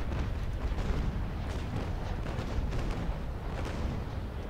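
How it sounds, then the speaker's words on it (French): A dense, continuous barrage of booming ship cannon fire, including small cannons and carronades, rumbles throughout, with repeated blasts layered over each other in a naval battle in the game Naval Action. "tiré avec des petits canons, c'est pas la caronade ça"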